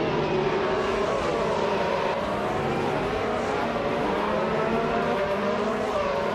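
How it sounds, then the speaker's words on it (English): Race cars, including a McLaren MCL32, roar continuously in a racing video game, a dense, steady engine drone with layered cars throughout, loud and unbroken. "Maya's car is a McLaren MCL32, currently in sixth place"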